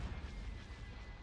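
Starship weapons fire in a Star Wars space combat game, a dense continuous barrage of low rumbling booms and blasts with no distinct pauses, loud and steady throughout.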